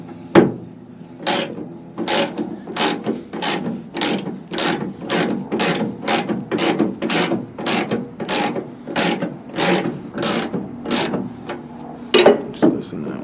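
A socket ratchet loosens a 12-point bolt on a 1983 Toyota 4x4 pickup, throwing out a long, even series of loud, close ratcheting clicks, each stroke distinct and rhythmic.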